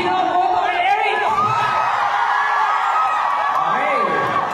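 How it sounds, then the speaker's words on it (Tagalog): A crowd at a community LGBTQ gathering cheers and shouts together in a sustained, noisy wave, with voices whooping throughout and no separate speaker standing out. "Palakasan ng palakpak."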